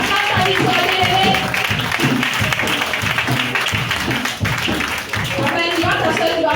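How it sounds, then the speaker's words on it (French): A church congregation claps steadily and rhythmically to acclaim victory, loud and close, while a voice speaks or sings over the clapping throughout. "Acclame ta victoire, bien-aimé."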